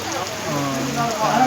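Heavy rain falls in Kadapa's YSR Colony, a steady close hiss of downpour with faint tonal voices underneath throughout.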